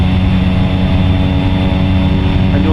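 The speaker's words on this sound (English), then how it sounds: "Hey Matt, if you would turn the engines down just a tad bit too." Carenado C208 turboprop engine in the X-Plane 11 flight simulator, a loud, constant droning hum with steady tonal layers and no voices, holding level throughout.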